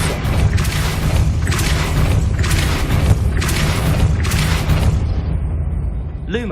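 Depulso force spells cast repeatedly in the Hogwarts Legacy video game, heard as a series of five loud whooshing bursts over a constant low rumble, with a brief swirling tone right at the end.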